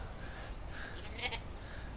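A lamb bleats against a noisy outdoor background, a short wavering cry that rises briefly and fades.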